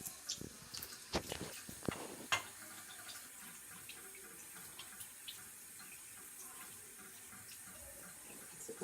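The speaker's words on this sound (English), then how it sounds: "And then I'm going to rinse that one." A trumpet valve is rinsed under a running tap, with steady soft water flow and a few sharp clinks and splashes near the start before settling into a quiet, even trickle.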